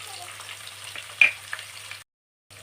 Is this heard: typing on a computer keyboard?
no